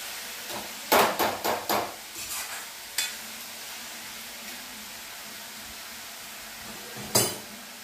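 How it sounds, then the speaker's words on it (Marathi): A spoon stirring food in a pan on the stove, a quick run of close scraping strokes followed by a few isolated scrapes, with a quiet background in between. "याला हलवतच राहायचं, खाली लागू द्यायचं नाही."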